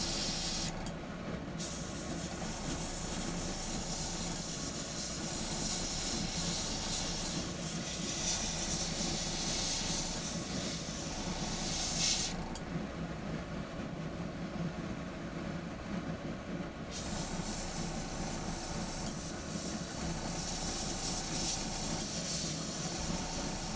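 An airbrush sprays paint onto a carved wooden dragon, a steady close hiss that runs for long stretches and cuts out briefly a couple of times before resuming.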